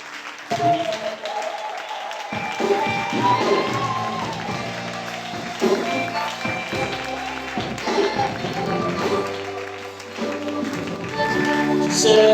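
A church congregation at a worship vigil applauds and cheers for the Lord, with steady, dense clapping and crowd noise under loud music and a voice throughout.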